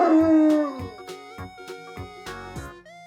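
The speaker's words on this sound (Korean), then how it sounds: "역시 피아노를 치자마자 하울링을 하고 있네요." A dog howls loudly near a piano as several notes are struck in a halting rhythm, the howl fading into whimpering tones between the chords.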